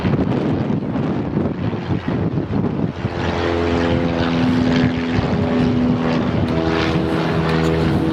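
Steady, loud propeller engine drone from a Boeing B-17F bomber, a large four-engine piston aircraft, with wind buffeting the microphone and a rising harmonic hum in the second half.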